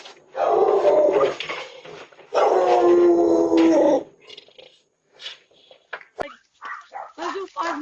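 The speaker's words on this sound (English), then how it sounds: "The dog really earned his treats on this one." A dog barks and howls outside a home's door, caught by a Ring doorbell camera: two loud, sustained bursts, then quieter scattered sounds mixed with brief voices.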